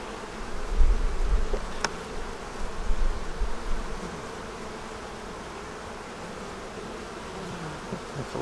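Honey bees buzz steadily on a hive frame, a dense continuous drone close by that swells louder in the first few seconds, then settles to an even hum.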